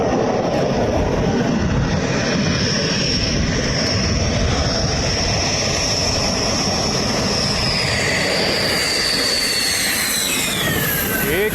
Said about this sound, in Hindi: अंबाला की एयर स्ट्रिप पर उतरते राफेल विमान